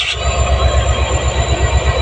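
Close, loud train noise at Silonibari railway station in Lakhimpur, with a rhythmic low thumping of wheels over rail joints, repeating steadily as carriages roll past.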